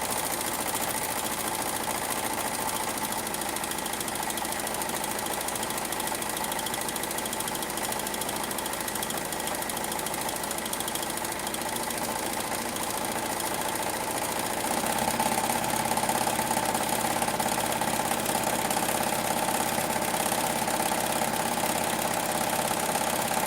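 A sewing machine runs loudly and steadily with a harsh, seizing mechanical drone, its pitch and intensity shifting partway through, continuous and close with no talking.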